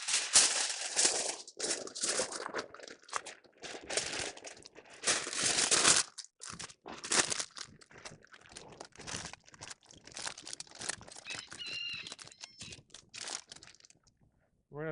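Aluminium foil is crushed tightly around a smoked turkey breast for a double wrap, giving bursts of close, loud crinkling and crunching with brief pauses in between.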